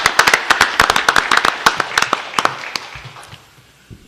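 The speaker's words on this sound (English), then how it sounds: "you deserve a round of applause" A round of applause rises in a city council meeting chamber for city staff, many hands clapping densely and steadily at close range before tapering off to scattered claps.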